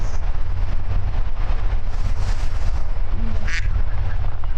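A porcelain duck in the video game Botany Manor gives a short quack over a loud, steady low rumble of game ambience, with no talk.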